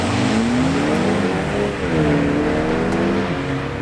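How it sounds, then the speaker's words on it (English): A 2020 BMW 228i xDrive Gran Coupé with a transverse 2-liter inline four pulls away in sport mode, the engine revving up through rising harmonics, dipping at a shift near the middle and climbing again, loud and close throughout. "We're gonna be in sport mode, and let's go for a drive."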